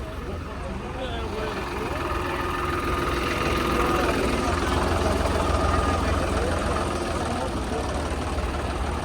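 A tractor engine runs at idle after starting, a steady low diesel rumble with rhythmic throbbing that stays loud and close throughout, while people talk over it.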